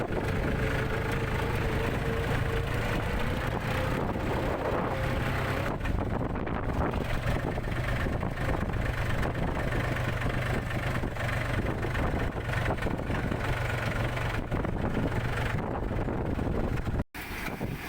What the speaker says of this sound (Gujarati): ફૂકડી ચાલુ કરી દઈ.